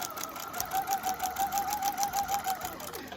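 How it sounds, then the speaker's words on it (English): Close, loud sewing machine stitching a back bodice piece along a dart line, a rapid, even run of mechanical needle clatter over a motor whir. "now I am going to stitch from the bottom of the bodice piece"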